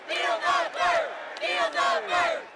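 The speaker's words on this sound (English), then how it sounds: "Sanders supporters booing every mention of Clinton's name." A large political convention crowd booing mentions of Hillary Clinton's name, swelling in repeated loud waves of massed voices about every half second, close and continuous.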